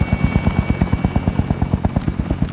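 Helicopter in Call of Duty: Warzone, a loud, close, steady rotor thump pulsing rapidly and evenly throughout, with no voices.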